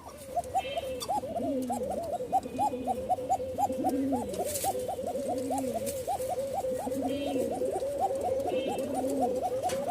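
Giribaz pigeons on a farm coo in a steady, rolling series of low, throaty calls, close and continuous, repeating in rhythmic bursts over faint background hiss.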